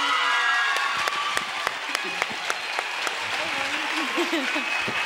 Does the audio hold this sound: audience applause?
yes